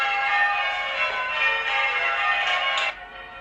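Church bells ring together in a dense, shimmering peal, steady and moderately loud, before the ringing drops away near the end.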